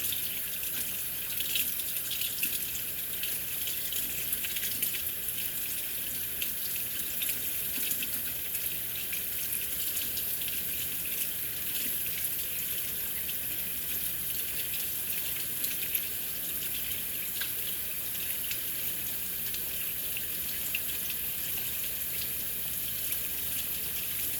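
A steady, continuous rush of water pouring from a faucet into a sink, hissing and unbroken throughout, with no voices.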